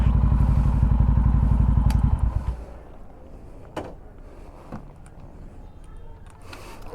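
A motorcycle idles loudly close by while being parked at the Chulkana Dham Khatu Shyam temple in Panipat, Haryana, then its engine cuts off after a few seconds, leaving faint ambient clatter.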